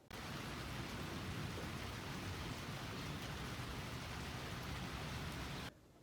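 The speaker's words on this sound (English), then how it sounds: "it is thunderstorming out, which is actually really nice because we haven't had rain in so long" Steady rain falls during a thunderstorm outdoors, a dense continuous hiss of drops on surfaces that holds at an even level for several seconds with no voices.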